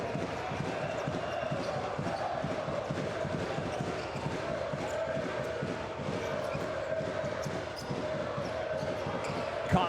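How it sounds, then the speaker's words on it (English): A packed basketball arena crowd in Bandirma keeps up a constant roar of cheering while a ball bounces rhythmically on the court, with a commentator talking over the din. "constant noise here by this Banderma crowd"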